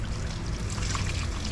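Blue windshield washer solvent is rinsed over a Silverado/Sierra truck part, giving a soft, steady splashing hiss that is fairly faint and continuous.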